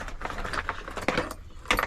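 A small metal adjustable shifter wrench being handled, with light metallic clinks and rattles in irregular bursts, close and moderately quiet, no speech.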